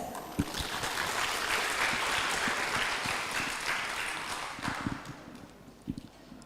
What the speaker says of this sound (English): give it a big applause for all of the talents